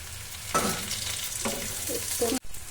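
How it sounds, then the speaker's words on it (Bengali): Chopped tomato drops into onions that have already browned to a reddish color, frying in a pan for a paneer dish. A steady sizzle runs throughout, broken by a few louder bursts of stirring and spattering, with no voices. "এবার আমি দিয়ে দেবো এর ভিতর একটা টমেটো কচি"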